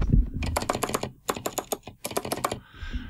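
Bursts of clicky 8BitDo Retro Mechanical Keyboard keys being typed rapidly, slightly rattly, in quick clusters separated by short pauses, close up.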